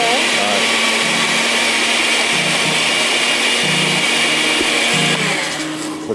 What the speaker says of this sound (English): So I need a high power blender now.